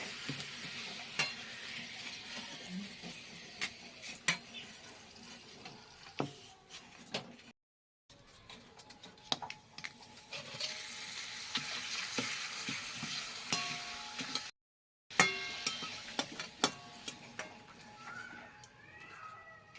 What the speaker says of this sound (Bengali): পাঁপড়গুলো ভেজে নেব